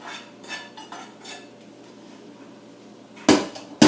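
A big spoon stirs quinoa salad in a dish, giving soft scraping strokes in a loose rhythm followed by two sharp, loud clinks of utensil against the bowl at the end.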